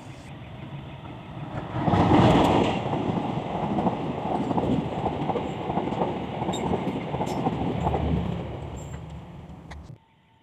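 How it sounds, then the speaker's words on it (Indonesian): A conventional local train passes close by, its rumble and clattering wheels swelling loudly, holding a steady roar for several seconds, then cutting off abruptly. "Sesekali kereta api biasa ini masih sering lewat."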